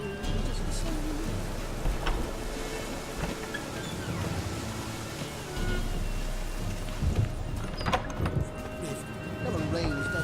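Steady rain falls in The Witcher 3 with a possible roll of thunder, a constant wash that runs under game dialogue for the whole stretch.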